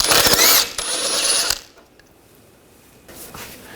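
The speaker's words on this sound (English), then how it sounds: "Take the bottom nut off as well, same 18mm socket." An 18mm socket on a ratchet loosening the rear sway bar link nut on a 2000-2006 BMW X5, two loud, close bursts of rapid clicking followed by near silence.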